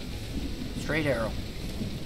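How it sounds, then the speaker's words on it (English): Steady rain hiss and low rumble from the video game The Isle fill the background, with a brief voice rising over it in the middle. "But the rain is starting,"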